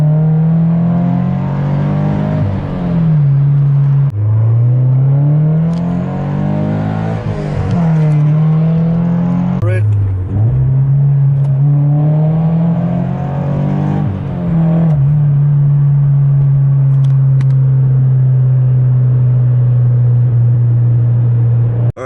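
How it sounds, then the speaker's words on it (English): A Subaru BRZ fitted with a custom equal-length header revs hard through several rising pulls with brief shift dips, then holds a steady loud drone, close and continuous with no talk. "I'm going to do an acceleration at a standstill with my new header."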